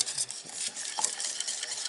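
Caramel stirred continuously with a utensil in a small, overheated saucepan, soft scraping and faint sizzling at close range with a brief clink of the utensil against the pan.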